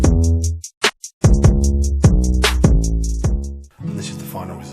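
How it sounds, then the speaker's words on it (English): A trap drum pattern made in FL Studio plays loud and clean, with punchy kicks and booming 808 bass notes under crisp hi-hats, a clap and a roll, ending in a brief noisy tail. "altogether the drums sound like this"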